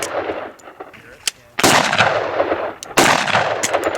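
A SIG P320 pistol fired during desert shooting drills gives two loud, sharp close shots about a second and a half apart, each ringing out with a lingering echo.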